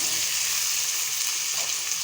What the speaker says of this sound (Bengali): দেখো ভাজা হয়ে গেছে, লাল লাল হয়ে গেছে